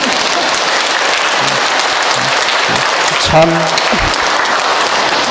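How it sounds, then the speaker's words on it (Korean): A congregation at a Sunday church mass applauds steadily as a broad wash of clapping, with brief speech from a voice near the microphone partway through. "9시 미사 때는 이때 박수 치던데."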